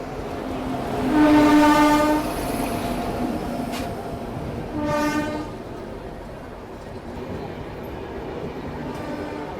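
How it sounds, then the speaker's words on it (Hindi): The Janhit Express from Purnia to Patna arriving at an Indian railway station, sounding a loud, steady horn blast and then a second shorter blast over a constant rumble of rolling wagons. "देखो ट्रेन आ रही है"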